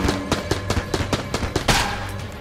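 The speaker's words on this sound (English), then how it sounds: "these ghosts with the Tommy guns are actually one of my least favorite enemies" Ghost enemies fire Tommy guns in Enter the Gungeon, a run of sharp, evenly spaced shots, about ten in under two seconds, ending in a louder burst. It sounds close, with no talking.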